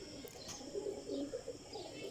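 Breeder pigeon pairs coo softly in their loft: low, throaty, repeated coos pulse in a steady rhythm, fairly faint, with a few light chirps and no talk.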